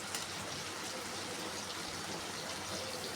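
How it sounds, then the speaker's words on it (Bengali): A little water is poured into a pan of frying coriander, turmeric and red chilli powder, making a steady, soft, hissing gush that holds evenly throughout. "সামান্য একটু জল দিয়ে মশলাটাকে ভালো করে কষিয়ে নিতে হবে।"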